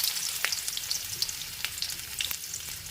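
Chopped onion fries in oil with cumin seeds, giving a moderate, continuous sizzle broken by scattered sharp pops and crackles, with no one speaking.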